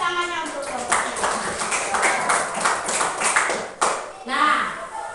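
Children in a classroom clapping for a group of classmates, a scattered rapid patter of hands under an adult voice and chatter, with a brief lull near the end.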